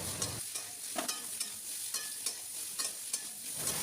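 Vegetables with salt and turmeric, cooked with no oil for soybean tikki, are stirred in a pan with quick rhythmic scraping strokes over a soft, steady sizzle, close and fairly quiet.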